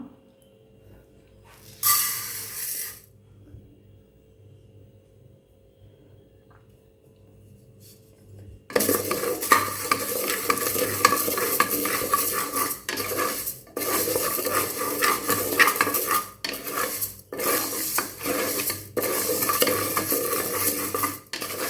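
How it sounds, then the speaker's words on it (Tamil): Moong dal dry roasting in a pan: after a near-silent stretch with a brief clink, loud rhythmic scraping and rattling of a spatula stirring the dry lentils fills the rest, close and continuous. "இப்போ இந்த பாசிப்பருப்பை வந்து ட்ரையாக ரோஸ்ட் பண்ணிக்கலாம்"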